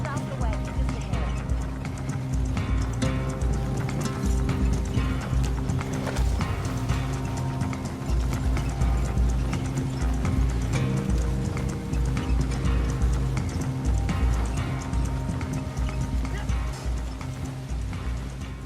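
Horse-drawn wagon in the video game Red Dead Online, hooves clip-clopping continuously and loudly with wheel rumble and occasional whinnies, under a steady bed of game sound and voices.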